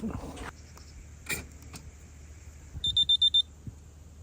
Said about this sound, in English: So it does beep.